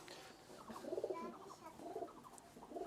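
Madrasi pigeons coo softly nearby in short rolling bursts that rise and fall over a quiet background.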